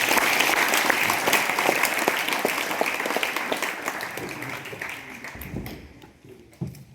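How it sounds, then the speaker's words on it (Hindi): Loud, dense applause from a school crowd celebrating a student's kabaddi gold medal, a continuous rush of many hands clapping that gradually thins and fades toward the end. "जोरदार तालियां"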